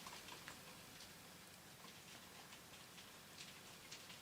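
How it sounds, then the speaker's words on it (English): Rain on a window, heard as very faint, irregular ticking taps against the glass, soft and close in an otherwise quiet room. "it's rain on my window"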